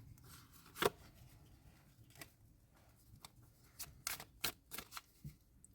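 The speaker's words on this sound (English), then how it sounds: "Let me shuffle the cards." A deck of cards is shuffled close to the microphone in a quiet room, with a sharp riffle and a quick run of crisp flicks and snaps toward the end.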